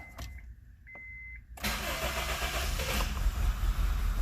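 A key turns with a couple of dash chimes, then a car engine with no radiator fitted cranks and catches, settling into a loud, rough, unsteady running roar close by.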